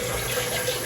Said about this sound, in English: I think I'm gonna add more water to this